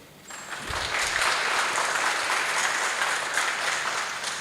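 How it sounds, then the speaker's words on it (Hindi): A crowd at a tech conference bursts into applause after a brief quiet start, the clapping swelling quickly and holding as a steady, moderately loud wash of many hands until the end. "इन सब के लिए फिर तालियां बजाएं"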